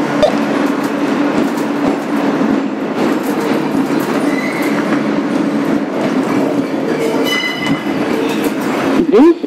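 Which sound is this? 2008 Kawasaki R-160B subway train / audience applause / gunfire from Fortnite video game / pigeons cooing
2008 Kawasaki R-160B subway train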